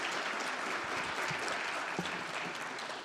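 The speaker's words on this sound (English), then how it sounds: "Applause for Igor." Audience applause following a conference talk at a space resources event, a steady dense wash of many hands clapping throughout, fairly distant and uniform with no voices over it.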